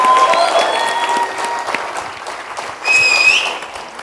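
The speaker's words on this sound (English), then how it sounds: "Let's give them all a round of applause." An audience at an awards ceremony applauds the 2025 Making Waves awardees, a steady wash of clapping with a couple of cheers or whistles, loud and sustained throughout.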